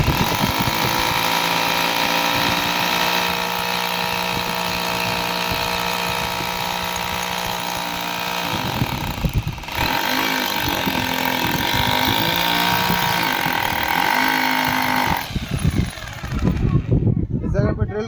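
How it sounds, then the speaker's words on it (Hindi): Electric drill boring into a brick wall while setting up a Dish TV satellite dish, a loud steady whine running almost continuously, with a short break near the middle and a stop near the end. "ये ड्रिल है मेरे पास, इसको हम ड्रिल कर ले रहे हैं इस जगह पे।"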